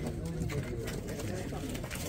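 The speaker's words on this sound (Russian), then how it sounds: "Разные голуби." Several pigeons of mixed breeds coo in low, throaty, overlapping murmurs at a busy pigeon fanciers' gathering, with people talking nearby.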